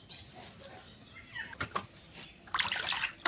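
Cut tilapia fish is rinsed under water, with irregular splashes and sloshing that build into a louder burst of running water near the end, close by and without speech.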